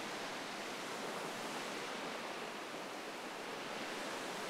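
Creek water spills over a drop in boreal forest in Woodland Caribou Park, a steady, even rushing that fills the whole stretch without pause.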